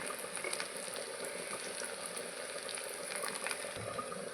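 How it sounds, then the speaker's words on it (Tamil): Steady, dense sizzling of chopped small onions frying in hot oil, a continuous crackling hiss with no talking. "எண்ணெய் காஞ்சதும் வந்து வெங்காயம் நறுக்கி வச்ச சின்ன வெங்காயத்தை வந்து"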